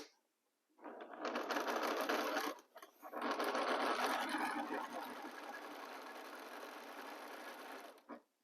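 A sewing machine stitches a row in steady, loud bursts, stopping briefly near three seconds and then running on continuously.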